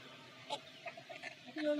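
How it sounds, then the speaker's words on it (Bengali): A red rooster clucks in a few short bursts close by, mixed with handling noise and low background voices during a backyard vaccination of desi chickens. "এটা আমাদের লাল মোরগ।"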